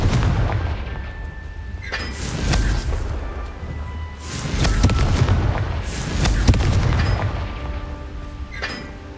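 Repeated blasting explosions from the Confringo spell in the Hogwarts Legacy video game, several loud booming bursts with crackling debris arriving in clusters, with no talking.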